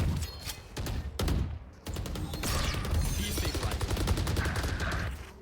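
Rapid video game gunfire bursts in an online shooter match, a clustered volley of sharp shots followed by sustained firing, fairly close, with faint talk underneath.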